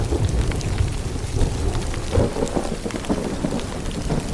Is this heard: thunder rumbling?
yes